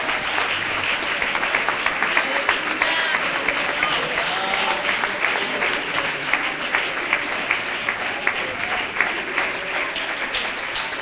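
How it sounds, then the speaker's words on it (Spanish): A Spanish-speaking church congregation applauds throughout, dense and sustained clapping at close range, loud and even from start to finish with no voices breaking through. "Dele ese aplauso a la presencia del Señor."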